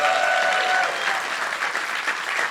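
An audience applauds at a startup founders' demo day event: a continuous, full wash of many hands clapping at steady loudness throughout, with no pauses.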